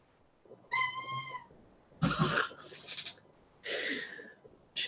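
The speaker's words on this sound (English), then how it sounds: "She's such a goofy cat." A pet cat gives one clear, close meow, followed by a couple of short breathy snuffs and huffs in an indoor room.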